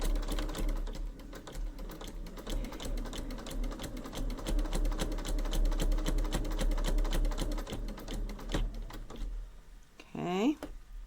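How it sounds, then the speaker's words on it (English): A sewing machine stitches a Halloween fabric bunting panel in a rapid, even mechanical patter, steady under quiet room sound, then stops near the end with a short squeaky sliding noise. "I'm going to go ahead and stitch, and I'm going to go ahead and do a back stitch to start, and just keep stitching along"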